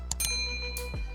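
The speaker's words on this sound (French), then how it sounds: "cliquer sur la cloche de notification afin de recevoir de nouvelles vidéos" A bright bell-like ding chimes twice in quick succession, then rings again with a sustained tone, loud and close, with no voices.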